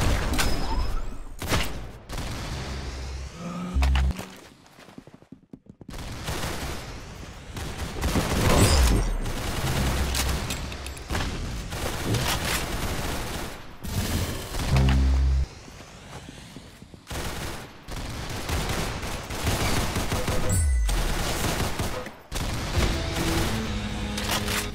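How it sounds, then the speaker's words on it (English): Video game gunfire in rapid bursts and sustained volleys with heavy booming low-end hits, loud and continuous over about twenty-five seconds, with only a short lull near the start. "Very good shooting."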